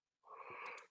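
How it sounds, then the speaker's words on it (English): A single drawn-out human yawn, a breathy wheezing exhale lasting under a second, close and quiet after a brief silence. "I'm yawning. I apologize."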